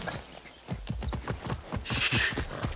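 Hooves of a horse in Far Cry 6 clip-clop in a quick, even rhythm close by, with a brief rushing burst near the end.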